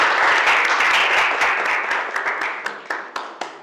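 A classroom audience applauds a student group after its presentation in an electronics engineering course, dense clapping that thins out into a few scattered, sharp individual claps at the end.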